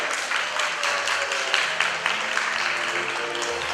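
Applause from an audience at a children's creative center in Kyiv's Solomianskyi district, greeting winners of IT olympiads: steady, dense clapping that fills the room throughout, with no talk over it.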